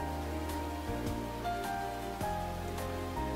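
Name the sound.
rain on water and gurgling river, from a visual novel game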